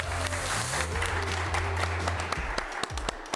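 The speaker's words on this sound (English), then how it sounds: "A big applause for our 16 global finalists?" Audience applause for sixteen global finalists at a live startup grand final, a steady wash of clapping under a low hum and some tonal music, with a few sharper nearby claps toward the end.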